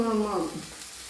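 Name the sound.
broad beans (avarakka) frying and being stirred in a pan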